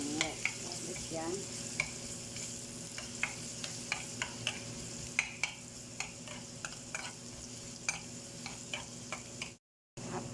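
Garlic frying in a pan, a soft continuous sizzle with frequent sharp ticks and taps of stirring at an irregular rhythm, close but quiet, cutting out briefly near the end.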